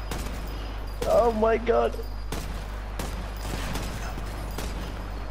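Video game gunfire, scattered sharp shots and short bursts cracking across the scene, fairly loud, with a voice exclaiming over them early on.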